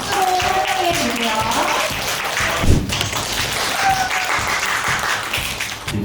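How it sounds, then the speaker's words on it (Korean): A crowd at an environmental networking day event in Seoul applauds to welcome a speaker to the stage. The clapping is steady, dense and close, running throughout with a brief thump partway through and faint voices mixed in. "큰 박수로 환영해 주세요."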